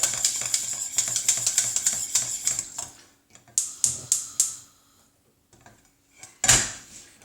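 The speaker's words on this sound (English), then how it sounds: "when I stir it, I can see a mark inside there" A spoon stirs Middle Eastern milk pudding in a big pan, making a quick run of bright metallic clinks and scrapes, then a pause, a few separate knocks, and one final louder clank.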